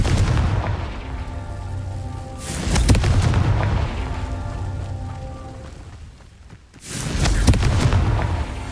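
Loud booming blasts from the Confringo fire spell in Hogwarts Legacy, three heavy explosions spaced a few seconds apart, each with a long rumbling tail and no talking.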